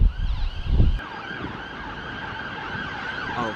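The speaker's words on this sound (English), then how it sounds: "There's 2 sirens going off." Two emergency vehicle sirens wail in the distance from a rainy rooftop, a thin steady tone sustained under wind and rain after a brief low rumble at the start.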